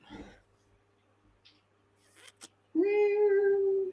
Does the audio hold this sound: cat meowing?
yes